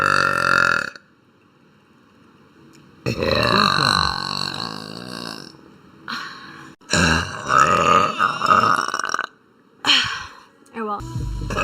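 Loud, long, close burps come one after another in several separate bursts, some deep and growling, with short silent gaps between them.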